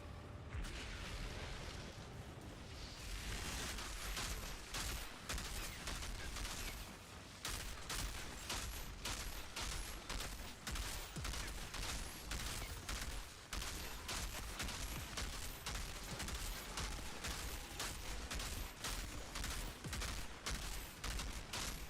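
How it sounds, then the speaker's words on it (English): Outriders shooter game combat with fire damage explosions: dense rapid gunfire and repeated booming blasts in a continuous loud barrage with no pauses. "The fire damage explosion is significant."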